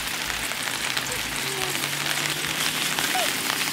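Omelette frying in soybean oil at a rainy campsite in Kaeng Krachan National Park, a constant crackling sizzle blended with steady rainfall.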